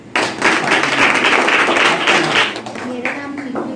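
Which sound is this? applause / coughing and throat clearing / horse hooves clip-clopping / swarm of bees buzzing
applause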